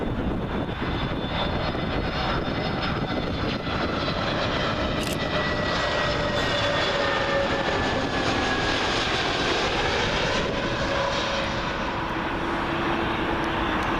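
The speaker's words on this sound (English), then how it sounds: "Got another A320neo for British Airways, and this one is from Geneva." A British Airways Airbus A320neo arriving at Heathrow on the 27L approach, its jet roar steady and fairly loud over the whole stretch, with tones sliding slowly as it passes overhead.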